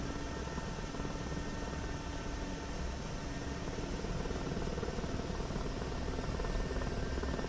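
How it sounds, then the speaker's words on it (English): Steady, close turbine roar and rotor drone of an Mi-8 helicopter engine in a flight simulator game, a continuous broadband rumble holding at a constant level throughout, with no talk over it. "I'm taking the MI8, which is nice. It's my favourite, easiest to fly helicopter."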